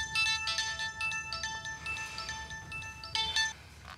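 A phone ringtone plays a bright, repeating electronic melody of short chiming notes, moderately loud and alone for a few seconds.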